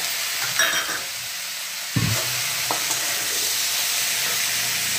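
Spices being stirred into eggplant and potato frying in a pan, a steady close sizzle with scraping stir strokes, a sharper clatter near the start of the second second, no talking.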